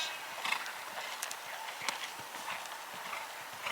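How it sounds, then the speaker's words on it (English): Hooves of an event horse striking the arena footing in a canter and trot, a quick uneven patter of soft thuds heard close and fairly faint over steady background hiss. "That was a lovely canter-trot canter, Tina."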